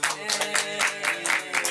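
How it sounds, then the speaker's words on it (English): Rhythmic clapping, about a dozen quick claps in a steady beat, with tonal music or voices underneath. "Y'all make a round of applause for Matthew Aaron."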